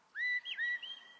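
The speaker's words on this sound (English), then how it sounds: "That whistle sound." A Scottish shepherd's whistle command to a sheepdog, a clear rising-and-falling two-part whistle tune, near and alone against a quiet background.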